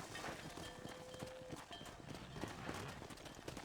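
Horse hooves clip-clopping at a steady walk in the Red Dead Redemption video game on a ranch, a rhythmic run of hoof strikes over faint ambient outdoor noise and a quiet music tone.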